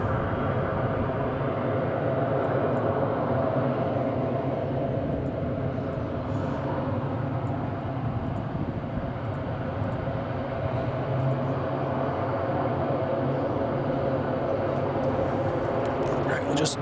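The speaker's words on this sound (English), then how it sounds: "the other TUI 737-800 is about to taxi to the runway now" A TUI Boeing 737-800 airliner prepares to taxi to the runway at Madeira Airport, its engines a steady, broad, continuous roar that holds level throughout, with a voice speaking over it.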